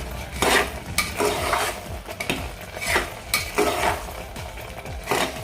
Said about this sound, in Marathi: आता आपण हे मिक्स करून फक्त एक एखाद दोन मिनटं फक्त आपण ठेवूयात गॅसवरती